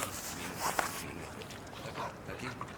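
A dog whimpers in short, faint bursts close by, set against a busy room with background noise and nearby movement.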